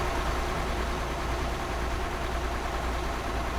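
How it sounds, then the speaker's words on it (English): A truck engine in Euro Truck Simulator 2 runs with a low, steady rumble, sounding rough and barely running, continuous and even with no other sounds. "Listen to that engine, man. It's like barely running."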